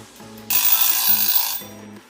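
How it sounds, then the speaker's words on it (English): A timer alarm goes off with loud, steady repeating beeps in a close, clear burst of about a second, framed by short tonal chimes on either side. "once that timer goes off"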